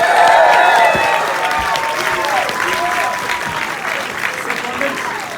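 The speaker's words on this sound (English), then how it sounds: "make some noise for the producer, Peter Safran." A large live-event audience at a movie premiere stage introduction applauds loudly with scattered cheers and whoops, the clapping gradually thinning over several seconds.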